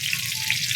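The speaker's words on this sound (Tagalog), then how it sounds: "Kumukulo talaga ang mantika" Onion leaves fry in boiling oil, giving a dense, steady crackling sizzle close up, uninterrupted for under a second with no talking.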